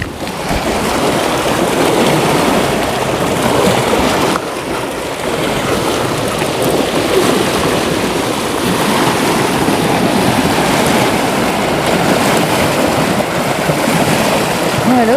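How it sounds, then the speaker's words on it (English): Rough wake waves from a passing boat churn and slosh loudly against the shore and hull, a continuous heavy wash of water with wind buffeting the microphone throughout. "Boy, those are some really wicked waves there. Just from a boat."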